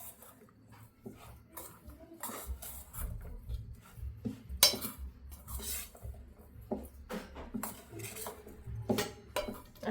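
A spoon stirs a spiced fresh turmeric pickle mixture, giving close clinks and scrapes against a metal bowl in irregular bursts, with no talking.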